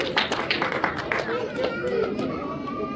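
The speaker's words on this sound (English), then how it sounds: "Let's clap for brother." Audience at a church Christmas celebration clapping, a burst of quick overlapping handclaps from a nearby crowd, mixed with talk and chatter.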